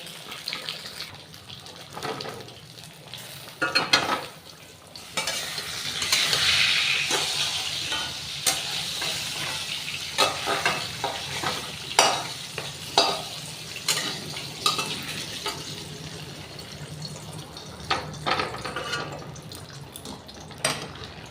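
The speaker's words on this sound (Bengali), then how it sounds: "এবার আমি মাছের মাথাগুলো এই ডালে ছেড়ে দেবো" Fish heads slip into a pot of simmering, well-cooked mung dal and get stirred, giving wet splashes, bubbling and scraping that rise in a burst and then carry on steadily, close to the pot, with no talking.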